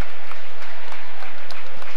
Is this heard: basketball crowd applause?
yes